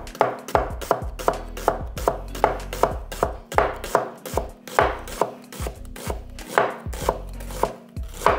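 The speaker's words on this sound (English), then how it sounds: "Now, red onion. But we have to cut in a nice and thin" A knife chops a red onion into thin slices on a board for a burger and coleslaw, giving close, crisp, evenly spaced chops at roughly two per second, about sixteen strikes with no other sound.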